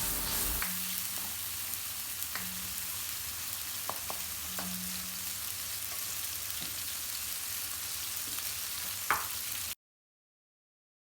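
Ginger-garlic paste frying in oil for a restaurant-style mutton karahi, a steady close sizzle running throughout with a few soft stirring clicks and scrapes, then sudden silence near the end.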